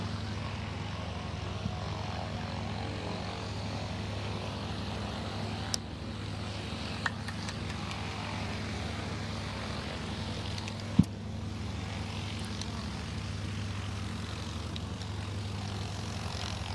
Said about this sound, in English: The aircraft you see here are the Vans RV-8, a two-seat tandem aircraft